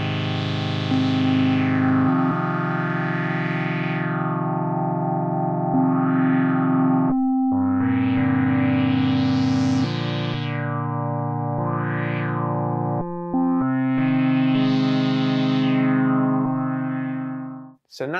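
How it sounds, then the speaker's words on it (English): A Mutable Instruments Yarns MIDI-to-CV converter drives a modular synth patch whose mixed envelope sweeps the filter cutoff, giving sustained, buzzy distorted tones with repeated rising and falling filter sweeps over shifting held notes, loud and continuous with no talking. "I've mixed my envelope and then have that controlling the cutoff of my filter"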